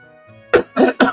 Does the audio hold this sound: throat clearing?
yes